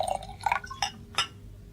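Brandy poured into a glass in a radio drama, a short gurgling fill followed by a couple of light clinks and drips. The sounds are close and clear, with brief pauses between them and no speech.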